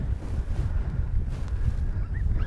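Strong wind buffets a microphone outdoors on the South Dakota prairie, a steady low rumbling roar that holds for the whole stretch with no speech.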